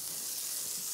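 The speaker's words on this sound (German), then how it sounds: "Das heißt, das Fleisch brät noch etwas, während der Käse schmilzt." Oklahoma burgers topped with cheese sizzle in a pan on a stove that has just been switched off, giving a brief, continuous bright hiss with faint crackle and no voices.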